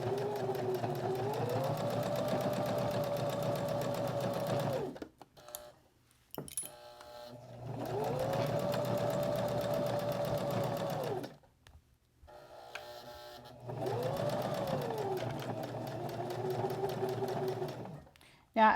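A sewing machine stitches a small padded fabric pouch in three steady runs of several seconds each, with short pauses between for clicks and handling as the work is turned.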